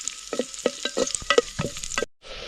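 Chopped spring onion with its greens being stirred and fried in a pan, several sharp scraping spatula strokes over a steady close sizzle, ending with a brief pause before the hiss resumes.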